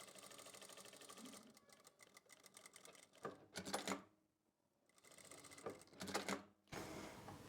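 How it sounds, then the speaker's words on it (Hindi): A sewing machine stitches a shoulder seam on a garment with a round collar, running in several bursts of rapid mechanical clatter with short pauses and one clear stop midway. "और शोल्डर की सिलाई लगा लेंगे।"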